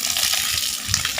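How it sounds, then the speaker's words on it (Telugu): Water pours steadily onto garden plants as they are watered, making a continuous close splashing gush for just over a second with no talking. "నీళ్లు పెట్టాలి ఇప్పుడు."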